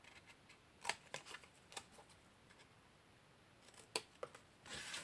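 Scissors cutting paper for a candle gift box, heard as quiet, close snips and rustles in irregular clusters, ending with a louder paper rustle.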